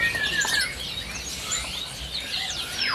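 Jalak starlings call in a bird shop with a busy overlapping mix of bright chirps, whistles and sweeping tweets, steady and fairly close with no talking.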